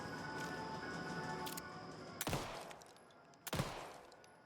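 Two sharp, loud gunshots ring out in Alan Wake II, spaced about a second apart over a quiet ambient hum, each with a short crackling tail.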